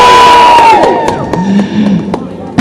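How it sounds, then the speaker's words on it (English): A crowd at a protest rally breaks into loud cheering and whoops, a dense roar of many voices close by, alone for a couple of seconds. "we can have a cheer for that, can't we?"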